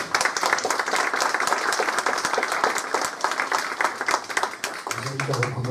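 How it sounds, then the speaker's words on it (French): Audience at an innovation awards event in Auvergne applauding a speaker, steady dense clapping at moderate level throughout, with a brief low sound near the end. "Merci beaucoup Thierry, vous pouvez l'applaudir"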